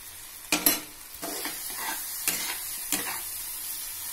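Ground raisin and cashew paste being sautéed in a pan, with a soft sizzle under several spatula strokes and scrapes against the metal, close and fairly quiet with no talking.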